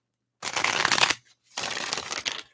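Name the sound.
shuffling tarot cards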